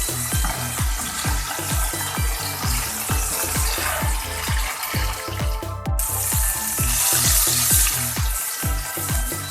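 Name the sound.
beef seekh kebabs frying in pan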